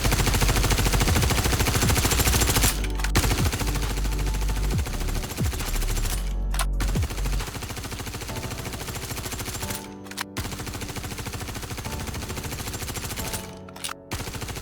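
Sustained automatic fire from a P4 rifle in the Star Citizen video game, a loud, continuous rattling stream of gunshots lasting several seconds, with short breaks between bursts and no talking.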